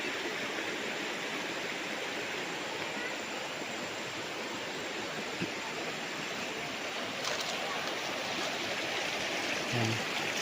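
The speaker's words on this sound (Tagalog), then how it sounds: "ito yung ilog" Steady rushing of flowing river water beside a farm lot in Liliw, Laguna fills the scene, a broad continuous wash of sound with no voices.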